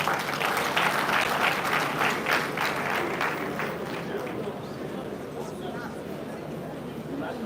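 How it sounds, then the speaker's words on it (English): Audience at a university town hall meeting applauds in a dense, sustained wash of clapping that gradually softens, with crowd murmur and speech underneath. "Can we encourage a round of applause?"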